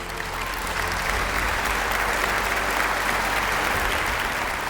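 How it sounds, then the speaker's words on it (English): A roaring round of applause for the chef of a newly opened Chinatown restaurant, with dense, even clapping from many people held at full strength throughout. "A round of applause for the chef"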